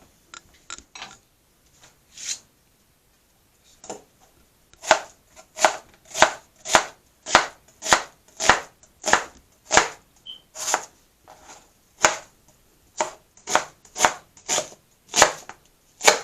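Vegetables for an omelette being chopped with a knife on a board, a series of crisp, close knocks that start sparse and settle into a steady, fairly quick rhythm, with no talking.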